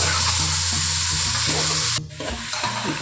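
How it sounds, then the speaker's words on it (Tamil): Pieces of country chicken frying in oil for a fry dish, stirred and turned over repeatedly, giving a loud, continuous sizzle with scraping strokes and a brief dip near the end. "நல்லா அந்த எண்ணெயிலே கொஞ்சம் நேரம் ஒரு ரெண்டு நிமிஷம் நல்லா பெரட்டி பெரட்டி விடும்போது அந்த எண்ணெயில் கொஞ்சம் வேகும்"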